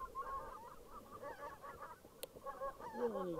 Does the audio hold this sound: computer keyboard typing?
no